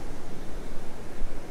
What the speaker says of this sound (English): Waves are getting closer.